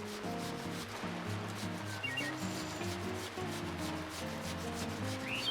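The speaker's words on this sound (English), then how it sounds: "First, we grate the potatoes. It's best to use a coarse grater." Potatoes grated on a coarse grater while cooking muffins with zucchini: a faint, continuous scraping rasp in steady strokes, layered over soft background music with no talking.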